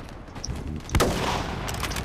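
A single sharp shot from an L96A1 sniper rifle fired without the scope in a video game, a loud crack about midway followed by a lingering boom and faint distant gunfire.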